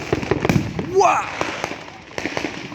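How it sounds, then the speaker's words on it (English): Bonfire night fireworks go off amid cheering voices, a rising whistle then a bright burst around the middle, with scattered pops and crackles before and after, fairly near and loud. "That's a big firework, that."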